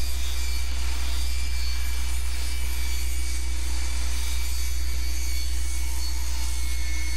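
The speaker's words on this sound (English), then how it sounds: "Using a table saw, we rip the riser to the required height." Table saw ripping a wooden stair riser to height during prefabricated stair tread installation, a steady, continuous whine of blade and motor running loud and close throughout with a constant low hum beneath and no voices.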